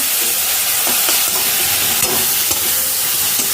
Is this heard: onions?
yes